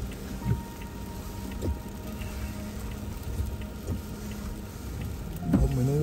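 Sleet falling on a New York City street: a steady, fine hiss of icy precipitation with scattered taps, a faint hum and occasional traffic noise, rising with a louder pass near the end.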